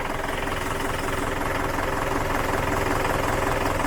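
A UAZ 469 fitted with a Ford Transit 2.5 diesel engine idles steadily up close, a dense rumbling knock with constant vibration and no voices.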